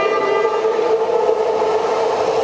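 A BART train runs steadily through a station, a loud continuous rumble and hum of rail cars with a sustained tonal whine throughout, close by and without any voices.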